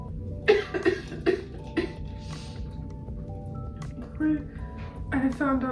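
Several sharp coughs from a person recovering from a tonsillectomy, choking on water, come in short bursts, followed by a few more near the end, with quiet speech between them.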